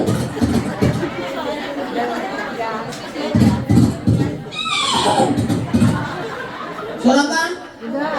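A voice imitates a horse's neigh at a Maulid gathering in a prayer hall, giving two wavering whinnies that fall in pitch, set among spoken talk and crowd murmur.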